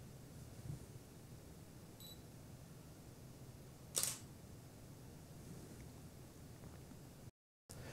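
A single sharp camera shutter click at f2.8 near the middle, close and crisp, against a quiet, faint background hiss.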